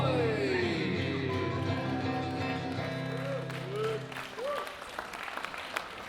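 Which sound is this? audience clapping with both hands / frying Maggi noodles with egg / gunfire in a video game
audience clapping with both hands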